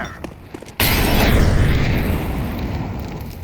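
A molotov fire grenade thrown in Counter-Strike 2 bursts into a loud whooshing roar of flames that holds steady for a few seconds, with no voices.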